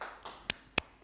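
Two sharp, close hand claps a moment apart make a tiny, sparse round of applause during an embossing craft class, with faint tapping before them.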